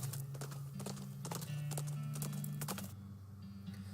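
Horse hooves clip-clop steadily along a trail in the video game West of Loathing, a quick, even rhythm of hollow knocks over a low droning music tone, with no talking.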